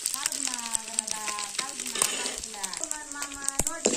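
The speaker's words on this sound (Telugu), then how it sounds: "క్రిస్పీగా వేయించుకోవాలి నూనెలో." Dried fish fries crisp in hot oil with a continuous close sizzle and crackle, while a voice talks over it.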